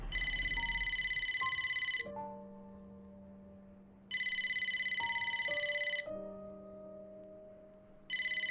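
A phone rings in a video game in two-second bursts of bright electronic trilling, three rings spaced by gaps where soft ambient musical tones linger and shift underneath.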